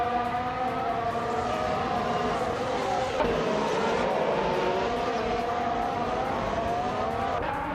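Race cars, led by a 2018 Renault RS18 on pole, start a race at Buddh International Circuit in a racing game, engines droning in a loud overlapping whine that rises and falls throughout.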